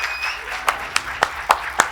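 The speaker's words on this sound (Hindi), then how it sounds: "तालियां" At a felicitation and success party for bankers, sharp claps ring out in a slow, regular rhythm, about five distinct hits over a soft background murmur.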